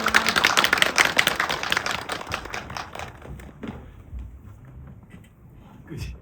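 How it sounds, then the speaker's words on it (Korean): Audience applause welcoming a film director and an author onto the stage at a screening Q&A in Seoul, strong clapping at first that fades over a few seconds into scattered claps and handling noises. "큰 박수로 맞이해주세요"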